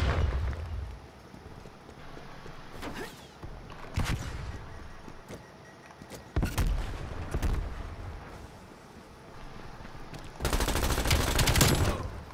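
Automatic weapon fire in a team deathmatch of Call of Duty: Black Ops Cold War, several loud close bursts separated by quieter stretches, with a long final volley near the end.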